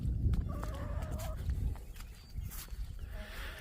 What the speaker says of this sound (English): Alright, chickens are ready to get let out.